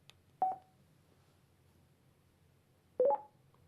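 A FREECOM intercom unit gives two short electronic beep tones about two and a half seconds apart when its intercom button is pressed, each tone brief and clear against near silence.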